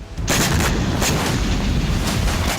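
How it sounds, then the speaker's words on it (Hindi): Drone strike explosions on an oil depot in Kharkiv, with fuel tankers bursting: loud, continuous rumbling blasts and crackling bursts, several sharper booms standing out against a dense roar with no voices. "ड्रोन धमाके होने से तेल डिपो के टैंकर फट गए और आसमान आग की लपटों से घिर गया"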